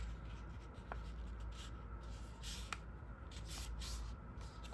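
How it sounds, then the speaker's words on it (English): Pen or pencil making a small mark on paper for a folio, a faint scratchy rubbing with a few brief strokes, close and quiet. "Just make a little mark so you know not to go any smaller than that"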